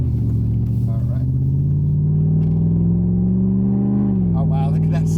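A 1994 Mercedes E500 with a naturally aspirated V8 accelerates through turns on a road, a loud steady engine drone rising in pitch and then dropping briefly as it eases off, heard from inside the car.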